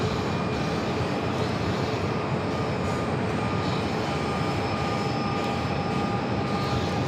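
A Southwest airliner on the ground at Phoenix airport gives off a steady, loud engine roar and rumble that holds evenly throughout, with no talk.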